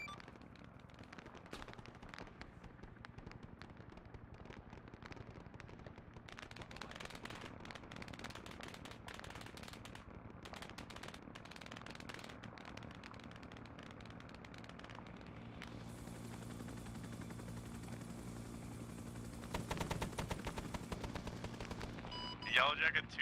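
Rapid gunfire and explosions crackle during an Arma 3 helicopter operation, with dense bursts of shots under a steady engine drone while voices talk over the radio.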